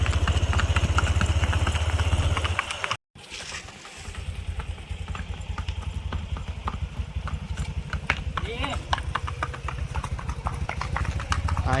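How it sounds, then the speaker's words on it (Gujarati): Steady hoof clopping from a mare walking at an even pace, with a continuous low engine-like rumble beneath and a brief dropout early on. "એટલામાં ઘોડી ધાંજિયા કરે હાલવામાં"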